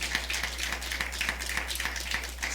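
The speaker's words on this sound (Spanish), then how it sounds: "Alguien denle un aplauso fuerte." Audience applause fills a church, a dense, steady patter of many hands clapping at close range, continuous and even in loudness from start to finish.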